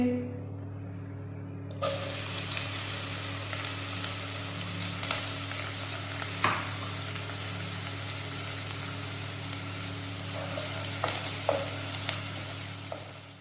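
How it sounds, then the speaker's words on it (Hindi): Finely chopped onions frying in hot oil: steady sizzle with a broadband hiss that jumps up abruptly early on, continuing evenly with occasional soft clinks and stirring sounds. "ऑयल हमारा अच्छी तरह गर्म हो गया। अभी हम इसमें ऐड करेंगे प्याज 1 अदद बारीक कटे हुए"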